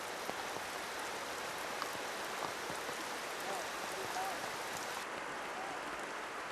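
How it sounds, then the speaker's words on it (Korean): Steady, dense rainfall pattering all around a jungle camp in Cambodia, a continuous even hiss of drops with no breaks. "해먹에 앉아 빗소리를 들으니"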